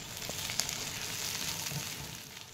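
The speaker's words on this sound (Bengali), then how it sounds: "এবার এর মধ্যে আমি দিয়ে দিয়েছি কাঁচা লঙ্কা কুচি" Chopped onion and green chilli frying in a little oil in a pan, a soft, steady sizzle with faint crackles and a light stir, heard alone and fairly quiet.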